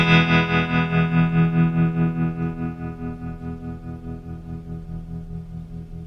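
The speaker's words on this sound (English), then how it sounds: "I've hooked up my Dan Electro Filthy Rich tremolo pedal," Electric guitar fed through a Danelectro Filthy Rich tremolo pedal at full depth on the soft setting, a sustained chord pulsing in a fast, even volume throb that slowly fades, with no voices.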